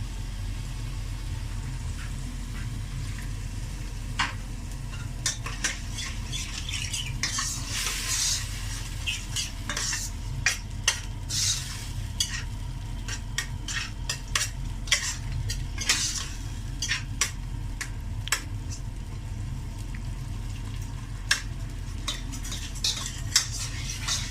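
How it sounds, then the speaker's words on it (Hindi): Steady sizzling of food frying in a pan while making kadhi pakora, with frequent clinks and scrapes of a utensil stirring against the metal throughout. "इसको 2 से 3 मिनट में ऐसे फ्राई करूँगी।"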